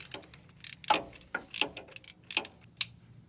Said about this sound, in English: go ahead and get your 12mm socket, deep well of course. Go ahead and tighten that down.